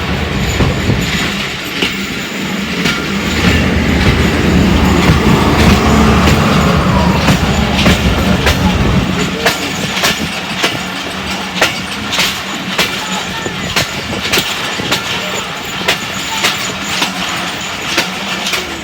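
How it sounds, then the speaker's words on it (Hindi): Awam Express passenger train in Pakistan rolling along the rails, a loud steady clatter of wheels with sharp rhythmic clicks over rail joints and a low rumble that thins after the first half. "ये 13 अप अवाम एक्सप्रेस है।"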